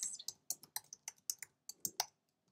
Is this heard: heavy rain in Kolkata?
no